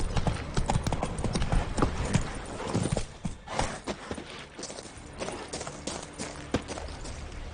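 Roach, a horse in the video game The Witcher 3, trots with steady, close clip-clopping hooves and a brief whinny early on, over a game soundscape with no talking.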